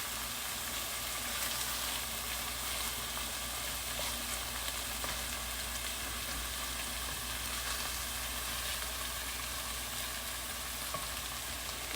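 Spinach wilting in a hot pot sizzles and fries in a steady, even hiss, with light stirring and no speech throughout.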